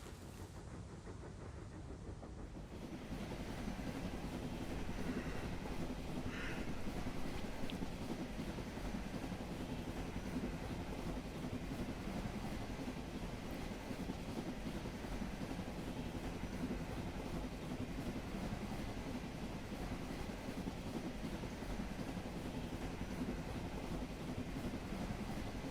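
Steady rumble and clatter of a passenger train heading toward Crewe, a continuous low rolling drone that swells after a quieter start and holds evenly throughout.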